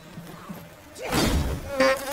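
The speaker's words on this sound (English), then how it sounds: "Oh, the frickin' bees are still here." Insect-like buzzing from bees in the survival game Enshrouded, starting faint then swelling into a loud, close droning hum with thuds of combat mixed in.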